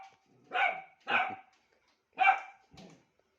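A dog barks four times in close, loud, evenly spaced bursts, the last one softer, with no talking.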